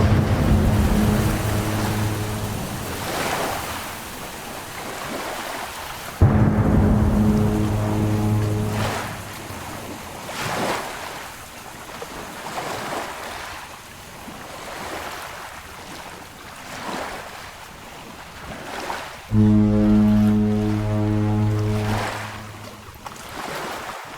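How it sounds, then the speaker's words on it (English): Thunderstorm, rain and crashing waves in the video game That Dragon, Cancer: a continuous roaring wash of wind and surf with recurring loud surges, under a low droning tone that comes and goes. "This looks like a storm I would not want to be out in."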